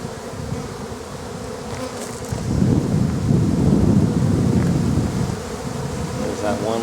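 Honeybees buzz in a queenless hive, a dense close droning hum that swells louder through the middle, with no voices.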